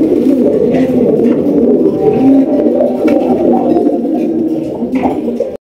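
A pair of blue satinette pigeons coo continuously and close by, a low, throaty, rolling warble that goes on without a break.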